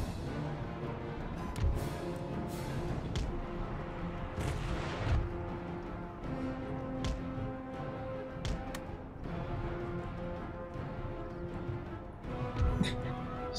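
Musket volley fire on an Empire Total War battlefield, with repeated muffled cracks and thuds, several in quick clusters, rolling under a continuous din of battle and distant booms.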